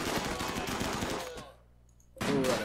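Automated turrets in the colony-building game RimWorld fire rapid bursts of gunfire, loud and dense, break off into near silence, then start shooting again.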